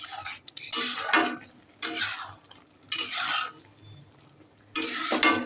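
A spoon scrapes through a thick curry of bottle gourd and prawns as rice flour paste is stirred in, four or five distinct bursts of stirring separated by short pauses over a faint simmer.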